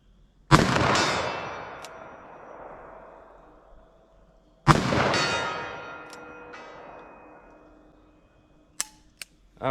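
Two loud, sharp gunshots from Winchester Big Bore .357 or .44 Magnum ammunition ring out a few seconds apart at a target outdoors, each blast followed by a long rolling echo, with a few faint clicks after.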